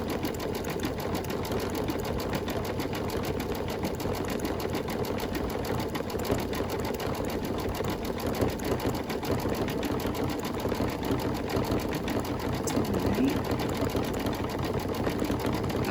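Embroidery machine stitching an applique Halloween quilt block, a fast, even mechanical chatter of needle strokes running continuously at moderate volume with no pauses.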